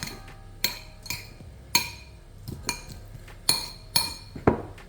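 Garlic, salt and pepper worked into softened butter in a bowl for a steak topping, heard as sharp utensil clinks against the dish at an uneven rhythm, about ten distinct taps, close and fairly quiet with no talk.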